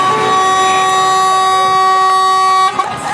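A loud, steady blast of a vehicle horn at a convoy departure in Rennes, France, held for well over two seconds before it cuts off, followed by a little background noise.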